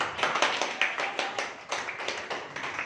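A church congregation claps along in a steady stream of overlapping hand claps, fairly close and moderately loud, with a faint murmur of voices underneath.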